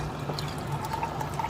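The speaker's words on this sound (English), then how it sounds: "Then you drain the water, as you see here." Boiling water drained off soaked rice for Persian dill and fava bean rice, a steady close pouring and trickling with faint drips, continuous and moderately quiet throughout.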